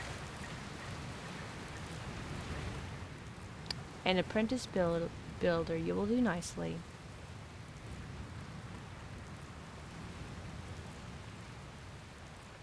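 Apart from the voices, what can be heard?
rain in video game Dragon Quest Builders 2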